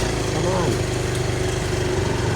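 An off-road motorbike engine runs steadily at close range on a jungle trail, a continuous mid-pitched drone with voices talking over it.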